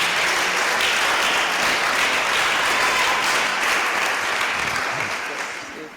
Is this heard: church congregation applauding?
yes